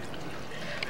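Water mixed with sauce poured over layered rice in a pot, a soft continuous pouring and trickling with a brief brighter splash near the end, close and steady, no talking.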